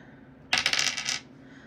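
A die rolled for a classroom drawing game, clattering and rattling sharply on a hard surface for about a second, close and alone before settling into quiet.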